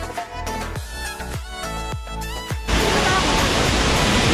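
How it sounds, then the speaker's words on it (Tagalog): Imugan Falls along the Villa Verde Trail in San Nicolas, Pangasinan, roaring as a steady broadband rush that swells loud and constant after a stretch of louder thumps and scraping handling noise. "ay narating namin ang Imugan Falls"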